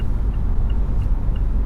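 A 2018 Mazda CX-5 compact SUV cruises on the 405 South freeway, giving a steady low road and engine rumble that stays constant with no talk.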